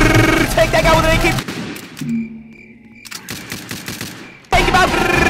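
Rapid automatic AK gunfire in the Roblox game Survive The Killer in Area 51, loud dense bursts at the start and end with a quieter stretch of game sounds between.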